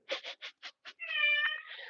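A house cat meows during a live home stretching workout: five short, evenly spaced mews, then a longer drawn-out meow that trails off, fairly quiet and close, with no talking.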